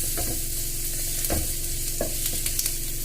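Onions fry in a pan with a steady, close sizzle while a utensil stirs them in a few distinct scraping strokes, with no voices.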